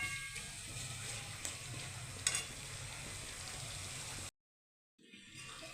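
Young jackfruit sautéing in oil, a close, soft and steady sizzle with a few faint stirring clinks, alone without talk, cutting to a brief silence before the frying resumes.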